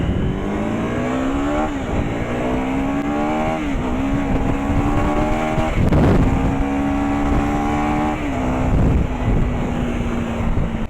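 A Kawasaki Z900 motorcycle cruising on the NH44 highway, its engine droning loud and steady with pitch rising and falling through several gear shifts, with wind rush throughout.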